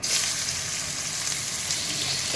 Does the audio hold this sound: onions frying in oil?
yes